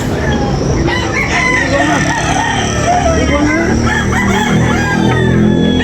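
Several gamecocks, including a Hawaiian, crowing and clucking continuously nearby at a rooster market in Tabunok, Talisay, their calls overlapping, with a low background hum.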